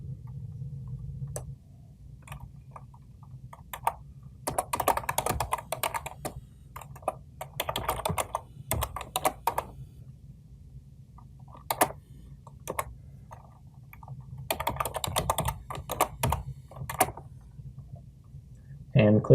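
Someone types a password on a computer keyboard, producing bursts of quick, close key clicks with short pauses between runs, over a low hum and without speech.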